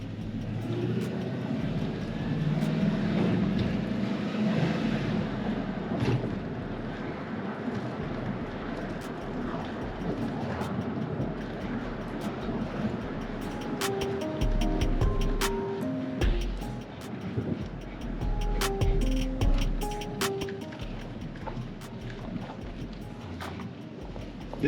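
A car with a 4.8-litre V8 rolls along on a test drive after a transmission rebuild, a steady low engine and road hum that stays fairly quiet, with brief faint voices.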